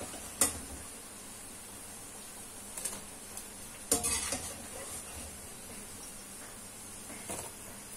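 A few sharp clatters and scrapes of a spoon against a pot as pakoras are added to kadhi curry, with soft stirring and faint sizzling between the bursts.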